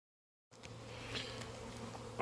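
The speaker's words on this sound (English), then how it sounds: "I got most of the bees in there" Bees buzz close by, a low steady hum with a few louder passes, rising in intensity toward the end.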